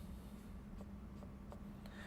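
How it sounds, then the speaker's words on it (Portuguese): Faint scratching of a pen or marker writing, with a few short strokes standing out over a steady low hum, no talking. "E agora eu fecho escrevendo a matriz A de fato."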